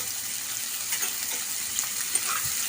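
Curry frying in a pan with salt just added, stirred with a steady broadband sizzle and a few soft scraping strokes, close and continuous, no voices.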